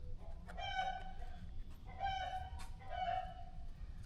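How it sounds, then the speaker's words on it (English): Backyard chickens cluck and squawk in three agitated bursts over a low rumbling background, fairly close and loud, with no talking. "Why are my chickens losing their mind? Be quiet, chickens."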